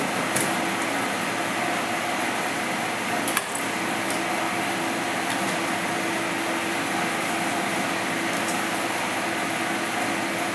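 A homemade DC motor with a single energized coil and one magnet, built on PVC and spinning at 2,400 RPM, gives a steady, continuous whir and hum at close range, with no talking.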